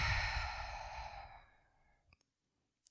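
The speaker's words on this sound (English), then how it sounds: "just take a couple of deep breaths" A single slow, deep breath in a guided meditation, heard as a long audible exhale that fades out, followed by a few faint clicks and near silence.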